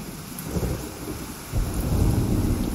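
A low rumble of thunder in The Division 2 rolls over steady rain and swells louder halfway through, with no one speaking.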